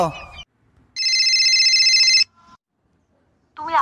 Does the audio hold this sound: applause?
no